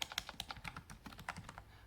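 Rapid typing on a Redragon S107 keyboard with a mechanical feel: a quick run of close, soft clacking keystrokes in an uneven rhythm, fairly quiet and with no talking.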